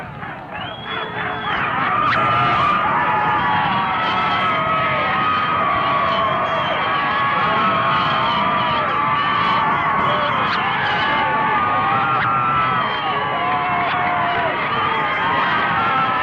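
Jacksonville Routt high school football fans cheer and shout in the stands after a 1984 IHSA playoff win, a loud continuous crowd roar with whoops and yells, a voice talking over it.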